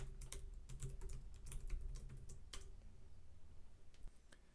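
Fingers type on a computer keyboard to enter an administrative password in a terminal, a quiet, close run of irregular key taps with short pauses, fading to a final keystroke or two.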